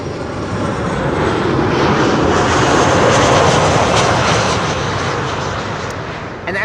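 A Cargolux cargo jet arriving to land at Schiphol, its loud engine roar building steadily to a peak and then slowly fading as it passes close overhead.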